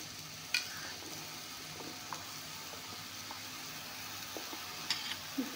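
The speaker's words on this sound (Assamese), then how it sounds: "এইখিনি অলপমান ভাজি ল'ম।" Vegetables fry in a pan of oil while an Assamese summer dish of jaha bhol and silver fish is being made, giving a faint, steady sizzle with occasional soft stirring clicks and no talk.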